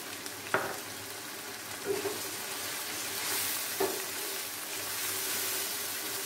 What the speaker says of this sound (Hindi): अब मैं इसमें दही ऐड करूंगी, आधा कप दही है इसमें